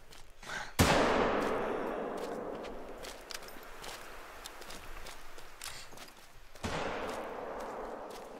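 Two loud rifle shots crack in the hunting game The Hunter: Call of the Wild, about six seconds apart, each followed by a long echoing rumble fading across the outdoor landscape.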